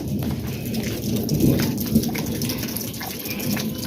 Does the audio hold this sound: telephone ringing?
no